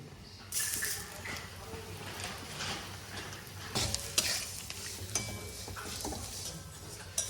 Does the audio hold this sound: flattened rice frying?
yes